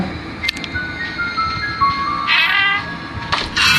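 A cat meows several times in the Slendrina: The Cellar horror game, short high plaintive calls close by, with a louder drawn-out yowl near the end over a low background hum.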